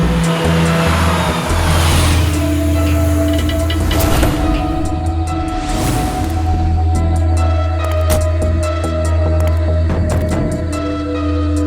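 A car drives with a steady, loud engine drone and road noise that carries through a couple of surges, with background music layered underneath and no speech.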